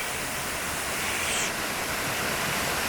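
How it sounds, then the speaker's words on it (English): The lower falls of a Scottish Highland waterfall pour in a steady, dense hiss of rushing water, close and continuous, unchanging across the whole stretch with no voices. "apparently this is the lower falls"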